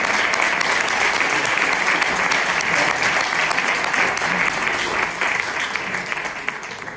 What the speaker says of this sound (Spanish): darle un aplauso muy grande por todo lo que está